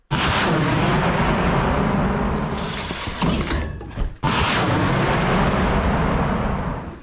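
Rocket artillery fires on a Ukrainian frontline position, one long, loud, close roaring blast that runs for several seconds, briefly dips, then surges again as a second launch, with no voices.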